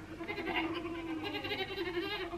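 Goat bleating played as a selectable sound on a Lumie Bodyclock Glow 150 wake-up light, a steady bleating texture running throughout at a moderate, slightly tinny level with no talking.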